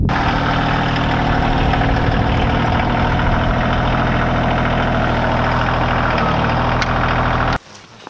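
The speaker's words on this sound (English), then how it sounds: "I'm gonna move the tractor" A loud, steady tractor engine idles with a deep, rumbling drone throughout, then cuts off abruptly near the end.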